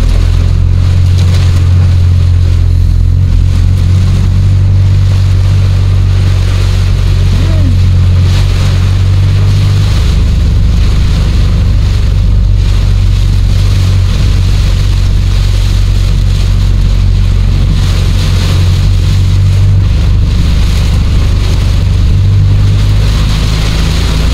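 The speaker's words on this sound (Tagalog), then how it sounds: "Grabe, buhos na talaga yung ulan. Ang lakas." Heavy pouring rain during a flood in Lemery, Batangas makes a loud, dense, unbroken roar close by, mixed with a low rumbling hum, steady for the whole stretch.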